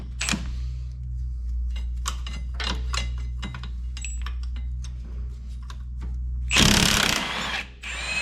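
A power tool whirs in short bursts, loosening 15 mm nuts on a Polaris Ranger's front axle area, with clicking mechanical ratchet sounds between and a louder, harsh burst near the end.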